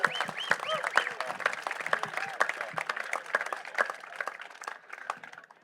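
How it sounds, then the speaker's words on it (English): Audience applause for World Team Tennis All-Stars at a player panel, a close, lively burst of clapping with distinct sharp claps and a few cheering voices, tapering off toward the end. "just one more round of applause for all of our World Team Tennis All-Stars"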